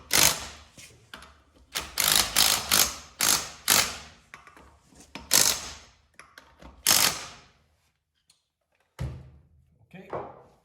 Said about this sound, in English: Now let the jack down.